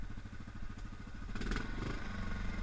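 A Yamaha quad ATV's engine putters in quick, rhythmic pulses while riding over slopes, rising into a rougher, louder growl partway through, with no speech.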